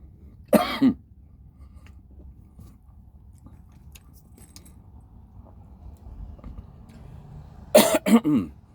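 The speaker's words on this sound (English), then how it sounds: "that's why I'm coughing, because it has pepper inside of it." Coughing from someone who has just eaten food spiced with pepper and turmeric: two short, loud bursts of coughs, one near the start and another near the end, separated by a long quiet stretch with faint background noise.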